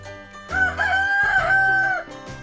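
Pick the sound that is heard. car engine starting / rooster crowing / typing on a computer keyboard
rooster crowing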